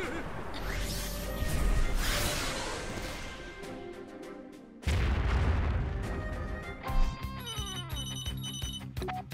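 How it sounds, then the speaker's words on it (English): Explosions in the Gravity Rush video game: heavy booming blasts roll out over several seconds, then another sudden loud burst hits, with a ringing tonal game score layered underneath. "Oh, there were explosions."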